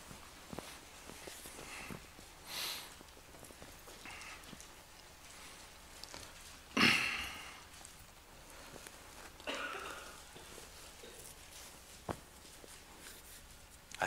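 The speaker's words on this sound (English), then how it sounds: "I still hear pages turning" Soft rustles and flicks of Bible pages turning, scattered and intermittent in a quiet church, with one louder crisp rustle partway through.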